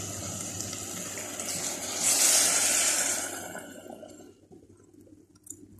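Boiled water is poured into a pot of chicken soup, a steady rushing splash that swells briefly, then tapers off into quiet with a few small clinks.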